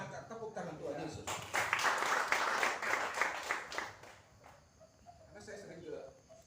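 A congregation clapping together during a Sunday worship service: a burst of many hands lasting a few seconds in the middle, with a voice speaking before and after it.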